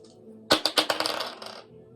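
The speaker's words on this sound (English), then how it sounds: "Let's get the dice and see what's going on for you." Dice tumble onto a hard surface for a fortune-telling reading: a sharp first clatter, then a quick run of smaller bouncing clicks that fade out within about a second.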